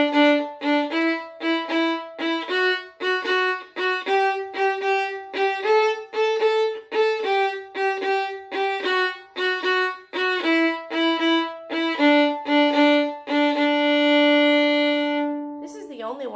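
Bowed string instrument plays a dotted eighth-sixteenth rhythm with hooked bow strokes, a steady run of clear sustained pitched notes with short repeated pairs, close and prominent, ending on a long held note.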